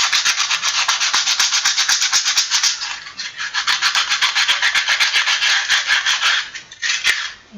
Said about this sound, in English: Just by using a little sandpaper